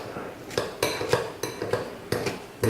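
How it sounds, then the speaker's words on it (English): Scissors cut kimchi into small pieces with about eight crisp, close metallic snips in an uneven rhythm, each one a short bright click over quiet kitchen background. "I'm going to use a pair of scissors to cut up the kimchi"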